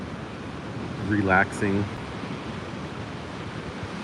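Steady broadband wash of ocean surf breaking along the Northern California shore, constant and moderately distant, with a brief spoken word rising over it partway through.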